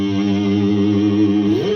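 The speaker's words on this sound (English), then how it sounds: "So much reverb on this tone." Electric guitar drenched in heavy reverb, a sustained chord ringing loud and steady with a slight bend or slide in pitch near the end, alone without talk.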